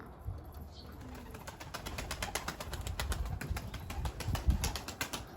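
A Mardin dede pigeon flaps its wings near a coop in hot weather, rapid fluttering beats building into a soft, quick run of wingclaps, close but faint against quiet surroundings.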